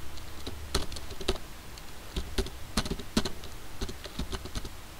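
Typing on a computer keyboard gives quick, irregular clicks and taps, close and crisp, with a few louder keystrokes against a soft background hiss.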